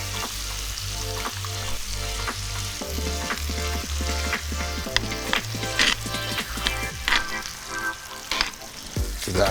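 Pork belly sisig with calamansi juice and a cracked egg sizzles loudly on a hot surface while being stirred, with constant crackling frying and irregular scraping knocks from the mixing.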